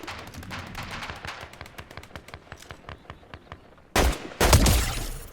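Gunfire in the video game Fortnite: a rapid run of sharp repeated shots in bursts that thin to single cracks, then two louder, heavier blasts near the end. No one speaks.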